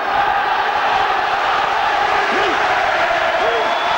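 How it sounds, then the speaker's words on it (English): A rugby league stadium crowd of Hull fans roars in a continuous, loud wash of noise, with a couple of brief whoops rising out of the din. "Listen to this crowd now"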